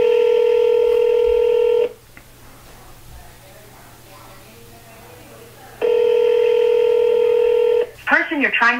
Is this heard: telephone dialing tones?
yes